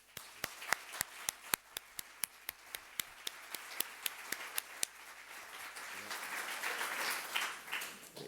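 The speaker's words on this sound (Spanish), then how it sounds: "Un aplauso para Begoña." Audience applause for Begoña at a public talk: a few sharp, separate claps at first, then a dense wash of clapping that swells and keeps going.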